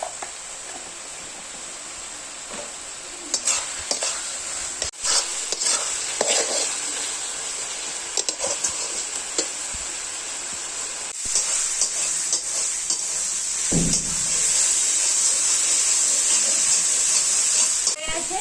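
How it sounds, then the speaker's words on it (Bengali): Ginger, garlic, tomato and green chilli with turmeric sizzle steadily in a pan in a Bengali village kitchen, with intermittent stirring scrapes and a louder hiss building near the end, close and continuous. "আদা, রসুন, টমেটো, কাঁচা লঙ্কা দিয়েছি, এটা ভালো করে কষে নেব।"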